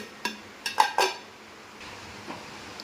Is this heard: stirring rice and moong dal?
yes